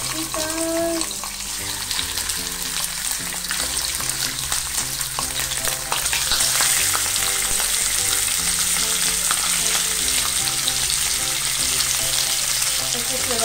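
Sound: meat frying in a pan

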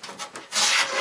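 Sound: hand planing wood for tool cabinet

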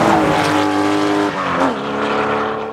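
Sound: engine of the car called the Growler

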